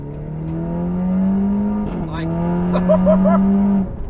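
A modified Audi TT with boosted power drives along a road, its engine droning steadily near and loud, dipping briefly around a gear change before pulling on; a few short speech-like sounds cut in over the engine.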